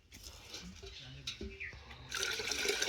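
Water pours in a rushing stream while country chicken is cooked outdoors, rising loud near the end after quieter moments with a voice talking earlier.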